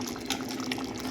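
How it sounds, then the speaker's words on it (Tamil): Water for mushroom biryani bubbling on the stove in a cooking pot, a continuous close wash of boiling and gurgling with small bursts, no voices. "அது வரைக்கும் அப்படியே கொதிக்கட்டு."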